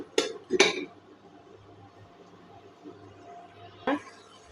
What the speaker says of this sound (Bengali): সময়ের জন্য ঢাকনা দিয়ে ঢেকে দিলাম